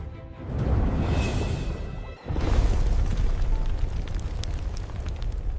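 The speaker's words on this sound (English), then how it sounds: "Boom! The volcano erupts with lava, smoke, and rocks." A cartoon volcano eruption gives a rumbling roar that swells, drops off briefly, then surges again into a sustained crackling, fiery boom.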